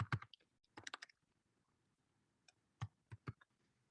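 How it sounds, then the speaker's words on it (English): Close, crisp computer keyboard typing in a lecture setting, coming in two bursts of rapid key clicks separated by a quiet pause, with no talking. "I don't know what I'm typing."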